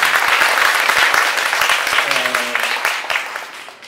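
An audience at a lecture applauds, dense hand claps filling the room before they thin out and fade, while a voice starts speaking over the tail of the clapping.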